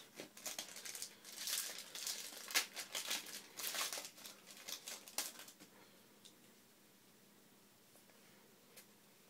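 A Yu-Gi-Oh Absolute Powerforce booster pack wrapper is torn and crinkled open up close, with a burst of sharp, irregular foil rustles that taper off into near silence.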